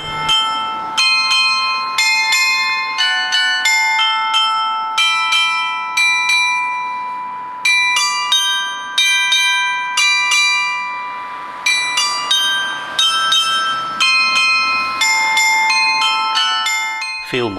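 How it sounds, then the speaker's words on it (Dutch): Carillon bells in Meierijstad ring out a bright melody at noon, struck notes following in a steady rhythm and chiming over one another, clear and fairly close. "Het carillon gaat starten."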